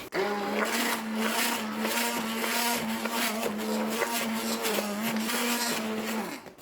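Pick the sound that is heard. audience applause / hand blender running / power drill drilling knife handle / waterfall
hand blender running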